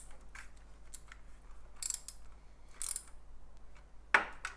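A socket ratchet snugs down the bolt on a new clutch slave cylinder, giving several quiet, spaced clicks and a sharper, louder ratcheting burst near the end, with no talking.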